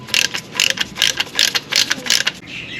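Ratchet reinstalling the diff sump plug on a MY16 Hyundai Tucson, a rapid series of sharp metallic clicking bursts in an even rhythm, close and loud.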